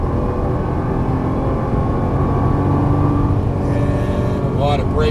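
A Nissan GT-R engine under full throttle on a race track, a loud continuous droning roar that stays heavy and steady, with a brief rising whine near the end.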